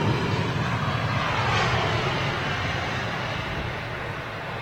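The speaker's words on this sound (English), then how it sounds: "That's why we're seeing them land so far down the runway." Jet airliner landing on a runway, a loud broad steady engine roar close by that slowly fades slightly as it rolls past.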